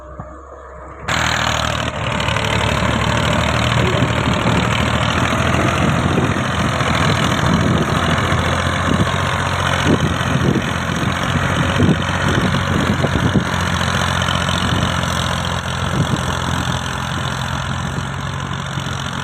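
A heavy tractor engine starts and then runs steadily at a low, rumbling idle with a knocking chug, loud and close, no voices over it, at an excavator loading site.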